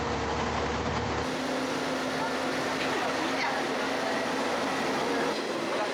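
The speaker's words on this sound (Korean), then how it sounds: "기차는 숲과 강을 향해 달려가고" A Japanese passenger train rolling through forest and valley, a loud continuous rumble of wheels on track with faint rhythmic clatter, heard from on board, the noise steady throughout.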